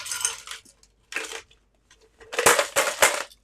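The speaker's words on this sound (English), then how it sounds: "I'm going to go ahead and start by putting ice in my shaker." Ice cubes clatter into a cocktail shaker in a few separate bursts, with a louder cluster of sharp rattling drops near the end and no talking.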